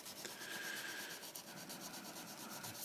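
Fine-grit abrasive rubbed against a Winchester 94 lever action part, a faint, steady scraping hiss with a quick back-and-forth rhythm, close up and with no talking.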